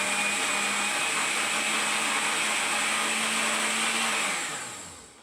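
An old blender whirs steadily as it mixes cottage cheese and cream cheese, a loud continuous motor whine held for a few seconds before spinning down at the end.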